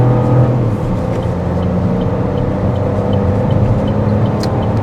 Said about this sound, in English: we're gonna go on the freeway right now and get up on it and tell me what you think about the acceleration for this little 3-cylinder motor